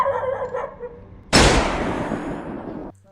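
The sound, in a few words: dog barking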